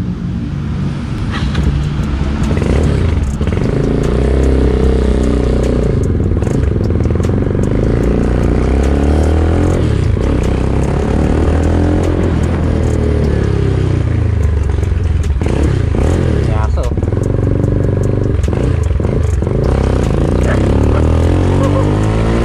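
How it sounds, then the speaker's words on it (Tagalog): China-made motorcycle running on a test drive, a loud continuous engine drone with shifting revs and pitch sweeps, mixed with rattles, scrapes and road noise throughout. "So, paandarin natin to. Test drive ko nga."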